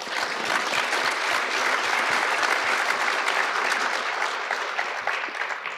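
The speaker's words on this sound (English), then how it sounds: "let's give our panelists and Patrick a round of applause" A conference audience gives the panelists a sustained round of applause, dense and even clapping that fills the room and holds steady for several seconds without talk.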